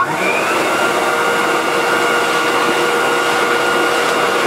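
A vacuum cleaner fitted with a straight suction nozzle runs steadily, a loud continuous whooshing hum with an airy high whine, close and unbroken with no talking.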